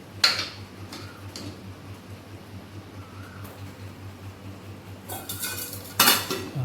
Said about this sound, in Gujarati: તો હવે મિત્રો વડીઓ અંદર નાખાશે.